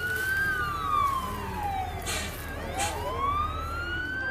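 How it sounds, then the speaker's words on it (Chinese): Fire engine siren from the 2006 film Crazy Stone, a loud wailing tone that sweeps down and rises again over a low traffic rumble, with no talk over it. "消防车啊"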